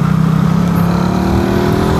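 Suzuki Satria FU motorcycle running on Shell AX7 full-synthetic oil, engine revving with a rising, steady buzzing tone, loud and close, alone without talk.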